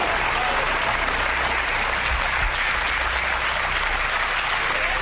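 A studio audience at a game show applauds loudly and continuously, a dense wash of many hands clapping that holds steady throughout.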